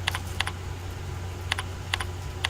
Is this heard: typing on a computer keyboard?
yes